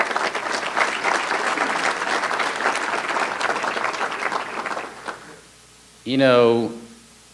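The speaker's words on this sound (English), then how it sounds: "Can we give them a round of applause?" Sustained applause from an audience packed with business leaders filling a crowded room, dense steady clapping that fades out after about five seconds, then a voice speaks briefly.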